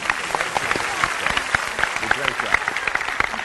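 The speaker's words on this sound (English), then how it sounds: "Please give him another round of applause." An audience applauds steadily at a live stage show, the dense clapping running throughout at close range while a voice briefly speaks over it.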